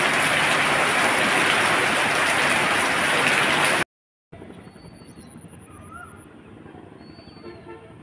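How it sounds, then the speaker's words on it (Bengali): Heavy rain pours down in a loud, dense, steady hiss for about four seconds, then cuts abruptly to a much quieter outdoor background with faint scattered sounds. "অনেক বৃষ্টি হচ্ছে।"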